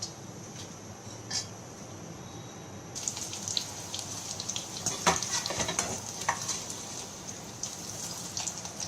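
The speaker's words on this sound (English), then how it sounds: "Let me fry some more" Pieces for vegetarian chaat street food fry in a pan on the stove, a steady bright sizzle that grows louder partway through, with occasional stirring clicks and no talking.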